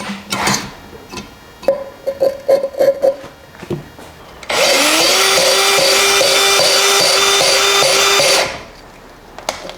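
A powered lapping tool spins a boat engine valve against its seat with gritty lapping compound. A few scrapes and clicks lead into a sustained close drill-like whine with a grinding edge lasting about four seconds, then it stops.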